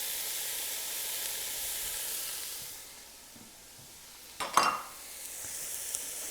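Diced onions, carrots and celery sizzle steadily in a pot, a broad hiss that eases off midway before a brief clatter of stirring flares up and the frying settles again.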